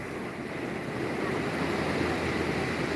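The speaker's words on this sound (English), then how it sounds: "They're going to catch the waves coming in." Calm ocean waves rolling in on a glassy sea, a steady close wash of surf with wind hiss and no break in the sound.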